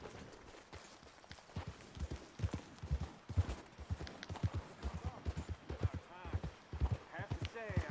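Horse hooves clip-clop in a steady walking rhythm in Red Dead Redemption 2, close and clear, while characters talk over the footfalls throughout.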